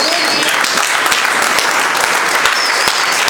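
A church congregation applauding loudly in acclaim for the King of Kings, a dense, continuous clapping from a large crowd, close and steady throughout.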